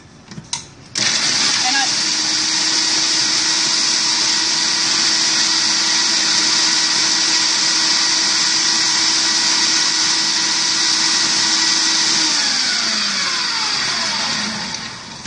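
An electric blender grinds crispy, crumbly cookies into crumbs for cookie butter, its loud steady motor whine running nonstop for about fourteen seconds after a brief start, then cutting off.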